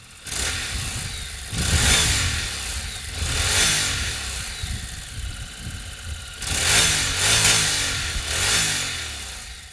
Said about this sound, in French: Le pot d'échappement a subi plusieurs modifications internes afin de distiller une sonorité plus profonde